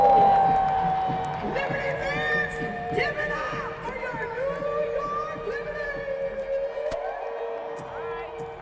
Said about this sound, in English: You heard that loud cheer?